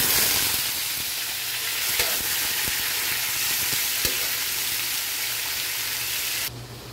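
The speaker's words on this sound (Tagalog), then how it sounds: "Prito lang natin yung ating carrots at patatas." Carrots and potatoes sizzle steadily in hot oil in a pan for a Filipino pork pochero, with occasional stirring scrapes over a continuous close fry.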